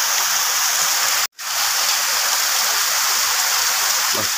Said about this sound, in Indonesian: Sungainya bagus banget ya.